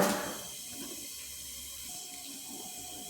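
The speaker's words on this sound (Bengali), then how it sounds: "আমরা ওভেনের উপর পরিমাণ মতো জল দিয়ে দিচ্ছি" Water is poured into a cooking pot on a stove to boil rice for chicken biryani. A splashy gush at the start settles into a steady, soft hissing flow.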